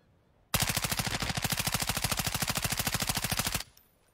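Video game gunfire: a single sustained burst of rapid automatic shots, evenly spaced and loud, lasting about three seconds before cutting off to near silence.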